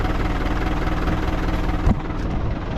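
A farm tractor engine idles steadily up close with a low, even rumble, a brief thump near the end before it settles on.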